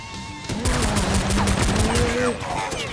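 Pistol gunfire in Counter-Strike 1.6, a pistols-only match on the untitled map: a dense run of loud, close shots with sharp transients and in-game noise under a steady bed.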